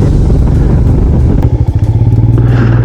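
A Royal Enfield Himalayan motorcycle engine runs loud and close on a snowy mountain road near Chopta, Uttarakhand, a steady low thrum that picks up into a rhythmic pulsing chug about halfway through.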